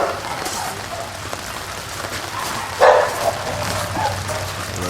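Steady rain falls outside outdoor dog kennels at an animal rescue, a constant hiss with a dog's brief bark rising over it partway through.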